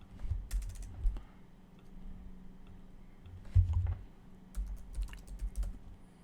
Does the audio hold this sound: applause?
no